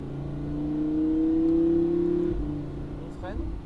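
A Lamborghini Huracan on the La Ferté-Gaucher race track accelerates, its engine tone climbing steadily before a brief drop and a quick rising shift, heard from inside the car.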